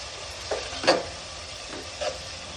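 Chopped tomato sautés in a pan with turmeric for a dried prawns pulao, giving a faint background sizzle and a few short scraping stirs at irregular intervals.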